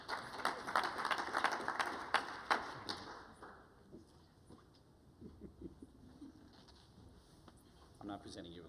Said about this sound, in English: a big round of applause for Mr. Matt Niehaus.